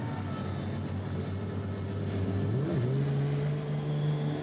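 A GT race car rolls down the pit lane at the FIA Motorsport Games, its engine giving a steady low drone that swoops in pitch as it shifts gears, loud and continuous throughout.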